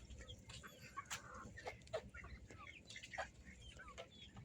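Backyard farm chickens cluck in short, scattered bursts over a steady low outdoor rumble, a flock heard at moderate distance.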